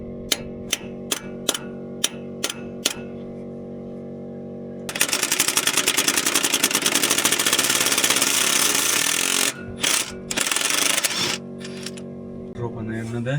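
A Makita power tool chatters in a garage: a few sharp separate bursts first, then a long loud continuous rattling run that stops and restarts in short bursts near the end.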